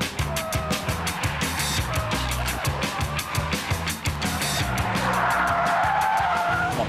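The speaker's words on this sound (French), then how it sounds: "Cette Clio bodybuildée avale le 400 mètres, départ arrêté en 15 secondes." Modified Renault Clio driven hard from a standing start, engine revving loudly with pulsing gear changes and sustained tire squeal, close and dominant with no talk.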